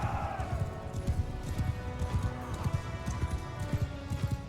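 Hooves of a horse galloping across a battlefield beach in Mount & Blade II Bannerlord, a rapid, steady clip-clop rhythm close by and fairly loud, with battle ambience beneath and a brief voice.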